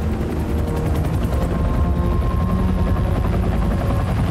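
Helicopter in the Marvel's Spider-Man 2 video game, a loud steady rotor drone with dense low-end thrum and rhythmic chopping running throughout, without any voices.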